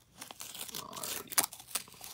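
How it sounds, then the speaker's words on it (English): Packing tape peeled off a mail package of hockey cards, giving a short close run of tearing and crinkling with a couple of sharper rips near the end, and no voice over it. "Just peel the tape off."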